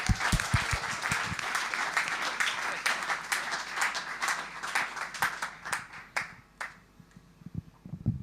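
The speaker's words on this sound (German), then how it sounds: "Grossen Applaus für Unblack." Sustained applause from a live audience at a sponsored livestream event, loud and dense at first with scattered sharp claps, then thinning out and fading toward the end.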